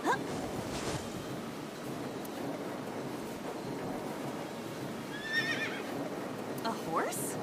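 A horse whinnies in the video game AI: The Somnium Files, a short high neigh heard over a constant wash of surf-like ambience, with hoof clip-clops and a faint voice nearby.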